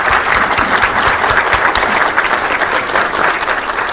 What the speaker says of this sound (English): Please give another round of applause to all.